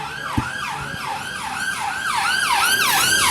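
An ambulance siren wails in a steady rising-and-falling cycle, loud and close, with a couple of faint knocks early on.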